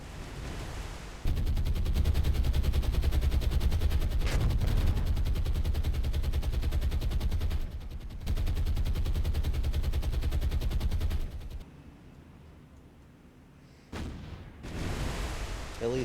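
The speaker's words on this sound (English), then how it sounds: "the Soviets are already opening fire" Soviet warships open naval gunfire at long range in War on the Sea, a dense, continuous rumble of heavy firing with a brief lull and then a renewed burst toward the end.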